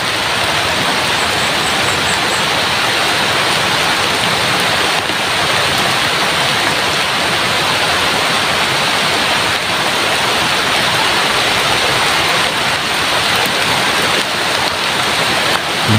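Heavy rain falls in a steady, unbroken roar for the whole stretch, loud and close, with no voices.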